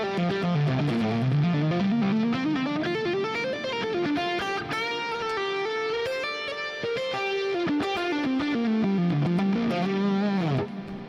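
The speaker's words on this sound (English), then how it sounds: "And that's the sound of the Dumble maxed out in the fractal world." Electric guitar played through a maxed-out Dumble amp model on a Fractal unit, a continuous overdriven melodic line with sustained, saturated notes and bends, loud and steady throughout with no talking.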